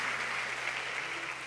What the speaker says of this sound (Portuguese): Aplaude ao rei, igreja.